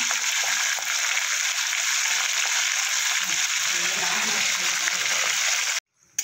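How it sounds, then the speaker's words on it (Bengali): Small khoyra fish frying in hot oil, a loud, dense, steady sizzle filling the clip before it cuts off abruptly near the end. "বাকি মাছগুলো ভেজে নেব"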